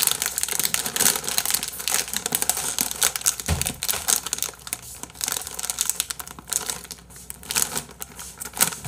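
A snack chip bag being torn open, with dense, close crinkling and crackling plastic and a few sharper tearing bursts, continuing for about nine seconds without talk.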